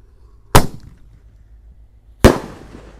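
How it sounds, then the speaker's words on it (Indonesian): Two sharp, loud firework bursts from a Roman candle launcher firing white shells, spaced about a second and a half apart, each with a short crackling tail, outdoors with no talking. "Sudah menyala ini pelontar yang warna putih pelurunya."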